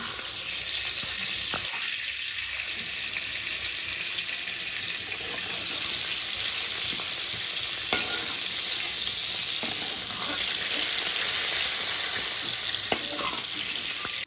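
Potato frying in oil left over from frying pointed gourd gives a steady, close sizzle throughout, with occasional stirring knocks and a slight swell in intensity later on.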